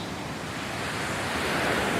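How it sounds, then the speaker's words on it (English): Ice-cold ocean water crashes against rocks in a continuous, loud, broadband roar of surf that swells slightly toward the end, with no talk. "The ice-cold water pounded against the rocks around me."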